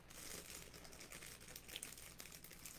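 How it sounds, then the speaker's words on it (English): Bracelet packaging crinkles and rustles right against a microphone, a continuous close scratchy crumpling that is faint in level but fills the whole stretch. "Let me just crumple it up all on the microphone."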